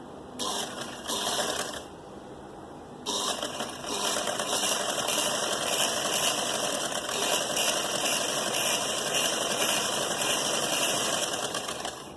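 A sewing machine stitching the inner fitting seam of a suit runs in a steady, continuous whir, close and fairly loud, with a short pause and restart near the start.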